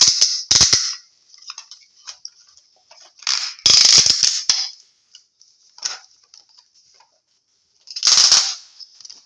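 Ratchet joints on a War for Cybertron Kingdom Autobot Ark toy click and crackle in a few loud, sharp bursts with quieter ticks between them, close up and without talk.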